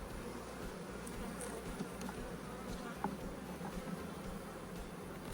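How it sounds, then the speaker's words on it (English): Dense, continuous buzzing of honey bees pouring out of an opened hive during an inspection after a formic acid mite treatment, a steady close swarm hum with no voices. "Bees are just boiling out of here."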